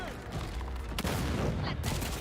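A grenade detonates in a video game, a loud sudden blast over constant dense gunfire and battle noise, with a second burst of crackling impact shortly after.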